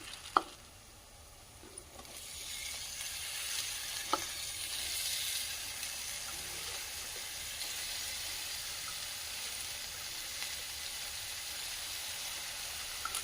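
Spinach sizzles and fries steadily in a hot pan with moong dal, a constant bright hiss that starts softly and swells after a couple of faint knocks.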